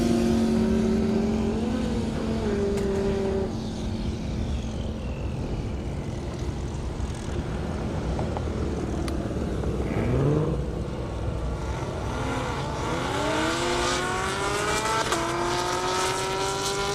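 Camaro ZL1 and Mustang GT350R drag race cars accelerating hard down an airport strip, a loud sustained engine roar with rising pitch sweeps as the cars pull away and shift, constant and intense throughout.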